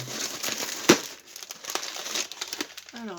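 Packing paper crumples and rustles in short bursts during a parcel unboxing, close by, with one sharper crinkle and a faint voice near the end.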